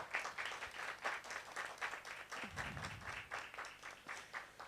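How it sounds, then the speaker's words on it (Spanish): An audience at an academic panel on intercultural teaching applauds a speaker, with steady continuous applause that is faint and distant throughout and has no talk over it. "Un aplauso para la maestra Arce"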